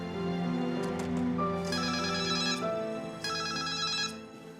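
A telephone rings with an incoming call, a close, melodic ringtone of repeating tones in a few steady bursts, with no talking over it.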